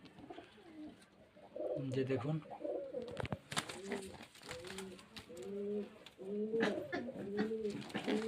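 Several pigeons kept for sale at a home in Beldanga, Murshidabad, coo repeatedly in rhythmic bursts, close and fairly loud. Someone speaks over parts of the cooing.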